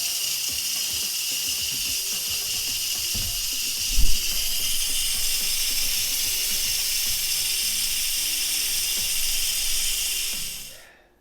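Steam hisses out of a pressure cooker release valve in a steady, loud, close rush, with a brief clunk partway through as the valve is turned, then tapers off at the end.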